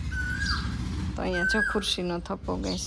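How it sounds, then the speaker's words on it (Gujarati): A koel gives two clear, whistled calls, one near the start and another a moment later, while a person talks over the second. "જો કોયલના ટહુકા ચાલુ થઈ ગયા છે"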